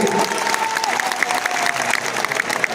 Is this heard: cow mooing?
no